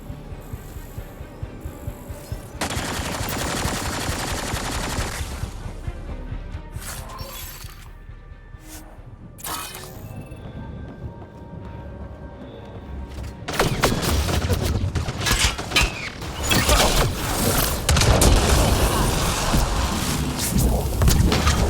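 Enemy gunfire in the video game Mass Effect: Andromeda, bursts of rapid shots and impacts that drop out briefly midway, then return louder and denser, with no talk over them.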